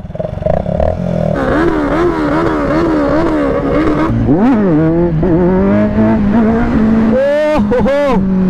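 A 900 motorcycle is revved hard at full throttle, its loud close engine note rising and falling in rapid repeated surges before climbing steadily, with raised voices shouting over it.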